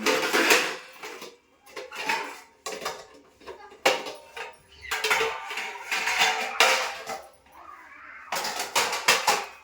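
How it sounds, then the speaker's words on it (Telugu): Metal vessel lids and dishes clatter repeatedly in uneven bursts, close by, with brief quiet gaps between the clanks. "క్యారీ గిన్నె మూతలు వస్తున్నా మూతలు"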